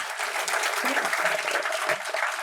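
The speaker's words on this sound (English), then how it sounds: "So big round of applause for them." Audience applause at a cybersecurity event inauguration, a dense, lively burst of clapping from the crowd that holds steady for a couple of seconds, with some faint voices mixed into it.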